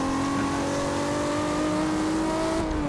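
A Toyota Supra's engine drones steadily as the car drives in the racing game Forza Horizon 2, a continuous mid-pitched hum with slight pitch rise, loud and close with no talk.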